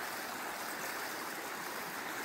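A creek flows steadily beside a campground in the Rio Grande National Forest along the Conejos River, making a continuous, even rush of water close by with no talk over it.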